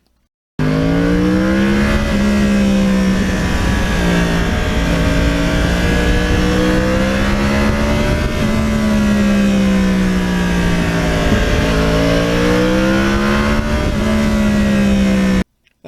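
A 2009 Yamaha R1 crossplane motorcycle engine revs between corners, a loud, close, continuous rasp that rises and falls smoothly several times under acceleration, alone with no talking.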